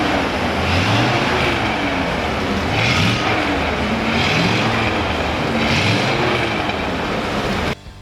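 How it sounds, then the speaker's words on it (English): Factory exhaust of a 1969 Corvette Stingray convertible: a steady, loud, close burbling rumble with gentle rising and falling surges, heard alone with no voices. "That's nice, nice sounding factory exhaust."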